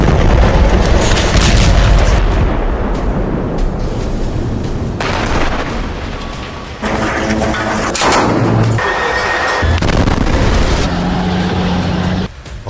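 Explosions from an Israeli army bombardment in Gaza: heavy booming blasts and rumbling bursts overlapping in a dense, loud, chaotic barrage, with sharp cuts between shots and no speech.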